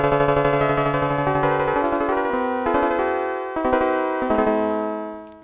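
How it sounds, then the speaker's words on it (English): Casio Casiotone 405 mandolin voice in synthesis mode plays a melody of rapid tremolo-picked notes that stop and then sustain, bright and clear, with no talking. "You'll remember the mandolin. It sounds like this."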